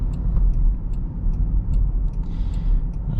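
Inside a 2022 Land Rover Defender SE X-Dynamic on the road, a steady low rumble of wind and road noise fills the cabin, with faint ticking and a brief higher whoosh near the end.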